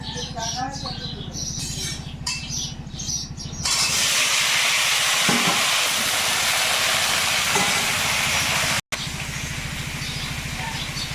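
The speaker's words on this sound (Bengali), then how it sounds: "কড়াইতে এবার তেল দেবো আলুগুলো ভাজতে দিয়ে মশলাপাতি বাড়বো" Potatoes hit hot oil in a wok, bursting into a loud, steady hiss and sizzle after a quieter stretch with someone talking.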